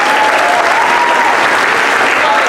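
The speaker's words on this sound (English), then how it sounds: "One more round of applause for the fifth graders." Sustained applause from an elementary school assembly crowd cheering the fifth graders, a dense steady clapping wash filling the room for the whole stretch with a faint voice underneath.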